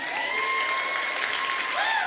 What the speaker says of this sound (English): Give it up for your band.